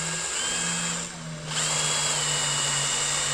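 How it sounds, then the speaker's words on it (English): A small drill bit whines steadily while drilling caked dirt out of a 1977 Johnson 9.9 outboard motor, a close, sustained tone that briefly drops off and then resumes. "I'm gonna see if I can work a little drill bit in here"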